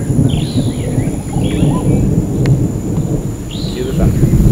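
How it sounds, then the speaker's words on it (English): Steady low rumbling of thunder filling the background, with scattered bird chirps rising above it. "Cue the thunder."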